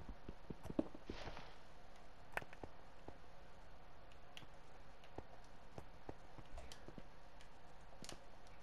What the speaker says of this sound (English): Could very well easily be a donkey.